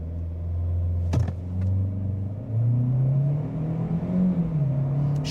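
A 2025 Chevrolet Equinox RS in all-wheel drive lock launches from brake torque and accelerates hard toward 60 mph, its engine droning up steadily through the revs with a brief dip at a gear change, loud and close.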